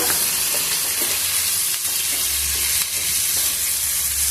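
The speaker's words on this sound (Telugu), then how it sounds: "ఇలా ఇట్లా వేయించుకుంటూ కలుపుకుంటుంటే మనకి ఈ ఉల్లిపాయ ముక్కలు అవన్నీ మాడిపోవు" Onion pieces fry in hot oil for a taro (arbi) fry, with a steady loud sizzle and repeated stirring scrapes throughout, close by and without talk.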